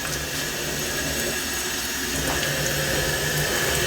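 Water rushes steadily into a toilet tank fitted with a self-cleaning bowl dispenser, a continuous close hiss and gurgle holding even for the whole few seconds with no talk.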